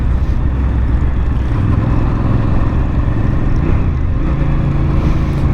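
A Suzuki TL1000R or Harley-Davidson motorcycle engine runs steadily and loudly nearby, a continuous low, rumbling drone with no talk over it.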